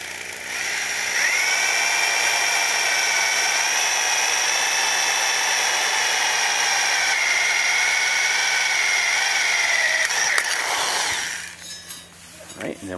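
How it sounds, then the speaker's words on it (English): A power drill bores through a metal mounting bracket for a tilt-over antenna mast, whining loudly and steadily at close range for about ten seconds before winding down into faint clatter. "next, I'll drill the mounting bracket for the mast."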